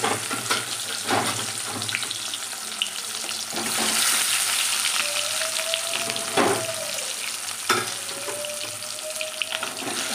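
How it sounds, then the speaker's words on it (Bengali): Bhola fish frying in hot oil in a pan, a loud continuous sizzle with occasional sharper crackles and faint scraping strokes running through the whole stretch. "মাছগুলো আবার ছেড়ে দেবো।"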